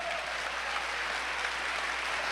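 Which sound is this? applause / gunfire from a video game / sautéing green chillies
applause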